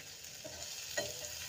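Potatoes sizzle quietly in oil in a pan alongside boiled jackfruit seeds, a soft steady frying hiss with one or two faint spatula scrapes, heard alone with no voices.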